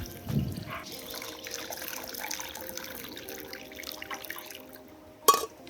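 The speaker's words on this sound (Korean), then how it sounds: "체에 맞춰서 걸러줍니다." Katsuobushi dashi stock is poured through a sieve in a kitchen, giving a soft, faint trickle and dribble of liquid that runs for several seconds and ends with a brief clink.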